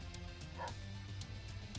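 Dogs barking in the strategy video game Warpips, a single short yip rising briefly over a steady low rumble of battlefield ambience.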